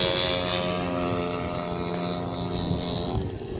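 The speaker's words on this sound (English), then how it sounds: "I think it's Chris's plane." A radio-controlled model airplane flies at a model flying field, its propeller engine giving a continuous droning buzz with a steady pitch that fades slightly toward the end, with no talking.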